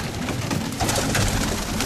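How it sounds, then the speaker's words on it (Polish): Several young pigeons coo with low, throaty murmurs that overlap continuously at close range, forming a steady soft burble with no talking. "to są gołębie młode tutaj"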